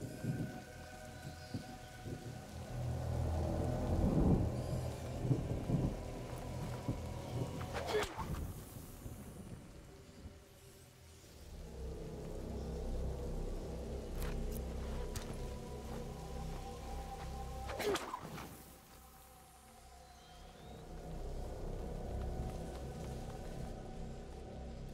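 Steady rain with rolling thunder in the game A Plague Tale: Innocence, a continuous wash of downpour broken by two sharp, loud thunder cracks that rumble away under the storm.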